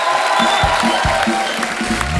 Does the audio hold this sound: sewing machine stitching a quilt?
no